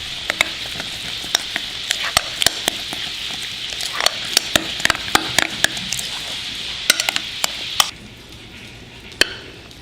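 A spoon stirs grits with cheese, salt and pepper in a pot, sounding as a close run of irregular scraping clicks over a soft sizzling hiss, with no voices.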